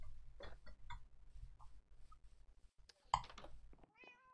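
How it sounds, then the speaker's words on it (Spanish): A cat meows several times after being hit, short close cries with gaps between them and a sharper yowl near the end. "Cuando se le pega a un gato, se escucha."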